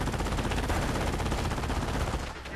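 Machine gun fire in Company of Heroes rattles as a dense, rapid, unbroken burst of loud shots close by, cutting off just before the end.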